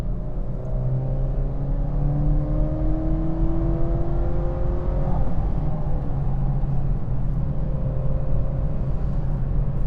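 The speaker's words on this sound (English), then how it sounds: "it has pull, especially for a 275 horsepower inline 4, and it's not a huge engine." A 2019 Chevrolet Camaro 1LE with a 275-horsepower inline-four pulls hard, its engine note climbing steadily as it accelerates, loud and continuous with a brief shift midway.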